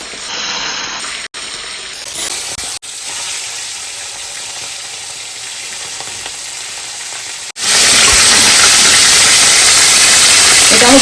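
Bottle gourd and prawns frying in a home kitchen pan, a continuous sizzle that turns suddenly louder and harsher partway through, as if stirred or lid lifted.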